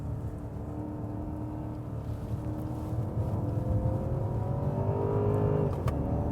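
A 2015 Hyundai Genesis V8 luxury sedan accelerates in manual mode, its engine note climbing steadily in pitch and growing louder before a brief break near the end, heard from inside the car.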